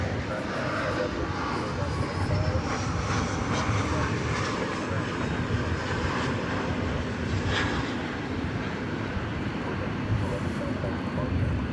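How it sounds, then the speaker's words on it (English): A wide-body airliner bound for LAX rumbles past DFW Airport at night, a sustained broadband jet roar with a rising whine, heard under intermittent talk nearby. "So there you got a wide body going to LAX."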